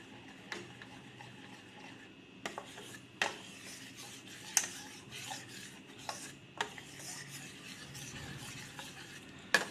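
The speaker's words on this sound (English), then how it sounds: "Keep stirring and cook till the rabdi is semi-thick." Rabri with bread, khoya and almonds is stirred in a pan, a quiet scraping and rubbing with sharp ladle taps against the metal at irregular intervals and no voices.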